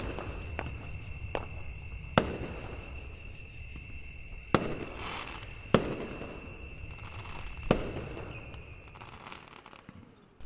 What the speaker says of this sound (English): Soon I heard the first rocket make its way into the night sky after which it exploded in a pattern of colors.